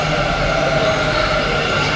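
Steady, loud rumble and hum of a passing Bangalore metro train, continuous and close throughout with no distinct speech.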